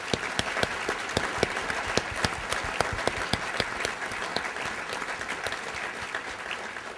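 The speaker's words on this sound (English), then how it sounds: "Can I have a big round of applause for the panel, please?" A room full of people at a business breakfast applauds the panel, sustained steady clapping with sharp individual claps standing out close by, continuing for several seconds without talk.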